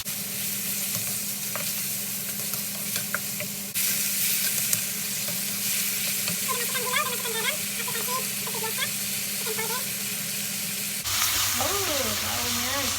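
Spice paste with bay leaves and lime leaves sautéing in a pan, a continuous close sizzle with stirring scrapes, and a voice speaking briefly partway through.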